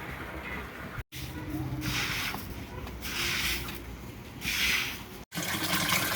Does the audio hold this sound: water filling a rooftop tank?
yes